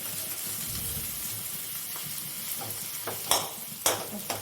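Chopped onion and three cloves of garlic frying in a pan, a steady close sizzle joined near the end by a few sharp clinks and scrapes of stirring.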